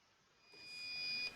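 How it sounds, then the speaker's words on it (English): An autopilot unit on a Fenix system emits a single steady electronic beep confirming the start of compass calibration, rising in level and holding about half a second before cutting off cleanly. "I will hear a beep confirming"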